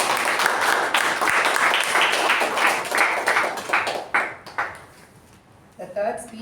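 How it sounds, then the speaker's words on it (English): Applause from a Toastmasters club meeting audience, brisk clapping for the first few seconds that thins into a few scattered claps, then a voice starts speaking. "So can we have a round of applause for both the speaker and the"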